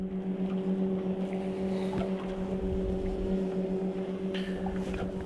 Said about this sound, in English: He got a very distinctive sound to that motor.